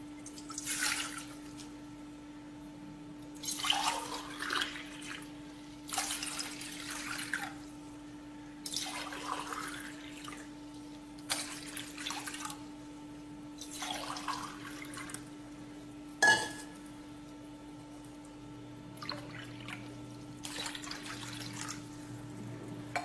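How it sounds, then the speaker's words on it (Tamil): Water trickles and splashes in several short bursts with pauses between, poured cup by cup into a container for hibiscus ginger lemon juice, fairly quiet and close. "இப்ப இந்த கப்ல வந்து 4 கப் அளவுக்கு தண்ணி எடுத்துக்குவோம்"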